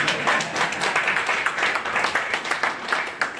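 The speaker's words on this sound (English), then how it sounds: "Please clap for me." Audience at an Electoral Commission media training session applauding; brisk, irregular clapping from a modest room of people, close and fairly loud, with no talk over it.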